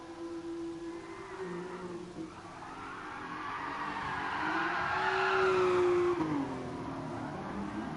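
A car drifts in the GT Sport video game at Suzuka, its engine droning steadily under long, rising and falling tire squeals that peak loudly near the end.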